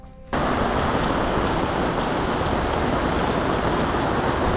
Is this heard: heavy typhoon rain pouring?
yes